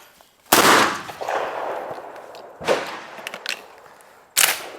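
A Benelli shotgun fitted with an AI Advanced Impact barrel fires at clay targets outdoors: three sharp, loud blasts a couple of seconds apart, each trailing into a long echoing decay, with no talking.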